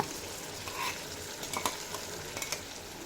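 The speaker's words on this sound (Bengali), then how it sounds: "আলু তিন মিনিট মতো ভেজে নেওয়া হয়ে গেছে এবার এড করে দেব পেস্ট করে রাখা মশলা" Potatoes frying in a pan as ground masala paste goes in: a continuous close sizzle broken by scattered clicks and scrapes of stirring, with no talking.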